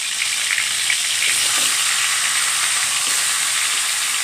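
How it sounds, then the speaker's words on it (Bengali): Fish pieces, including a large fish head, fry in oil in a wok, giving a loud, steady, even sizzle throughout with only faint stirring. "কড়াইয়ে তেল মাখিয়ে নিয়ে ভালো করে ভাজা করে নিব।"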